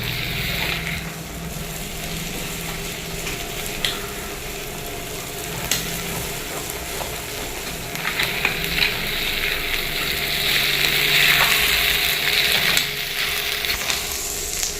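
Turkey berries with tamarind and salt sauté in a pan, giving a steady close sizzle and frying crackle with scraping stirs and occasional sharp clicks of a utensil, growing a little louder toward the end; no voices.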